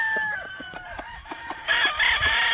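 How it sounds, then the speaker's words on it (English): A gentle black McRae rooster, a hybrid of two McRae lines, crows close by with sharp, bright calls broken by short clucks, loudest near the end, with no voices. "Very gentle rooster right here."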